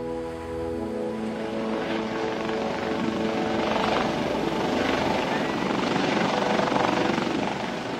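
A helicopter crisscrossing Madhya Pradesh gives a loud, steady rotor and engine drone that swells slightly midway, with a voice faintly audible early on.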